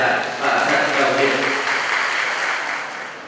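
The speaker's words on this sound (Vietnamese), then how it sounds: "Một tràng pháo tay thật dài và thật đồng nhiệt." An audience at an award ceremony gives sustained applause for the prize-winning authors, dense and fairly close, gradually tapering off.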